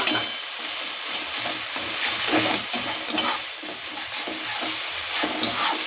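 Ginger, garlic and green chilli paste sautéing with onions in a pan, a steady close sizzle with scraping stirs and occasional utensil clinks throughout, no talking.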